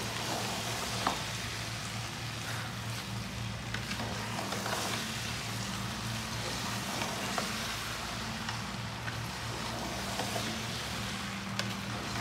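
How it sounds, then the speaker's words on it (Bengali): Goat meat being stirred into polao rice for biryani, a steady low sizzle and scraping of stirring running throughout, close and moderately loud with no talk. "দেখেন আমার গোস্তটা এখন ঢেলে দিয়েছে এবং পোলাও চালের সাথে এটা মিশিয়ে দেবো।"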